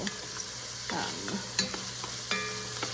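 Chopped, precooked mushrooms sizzle in a beef stew pot, with a soft frying hiss under a few scraping strokes and clatters of a utensil stirring them, heard up close.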